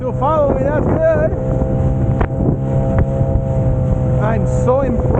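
Saturn SD330 inflatable boat's outboard motor running steadily on the water, with wind buffeting the microphone and someone talking over the drone of the engine throughout.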